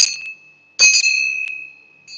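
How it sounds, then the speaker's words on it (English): A temple bell struck a few times up close, each clear ringing tone sustaining with a long shimmering decay and no talk. "This temple bell, I'm going to ring like this."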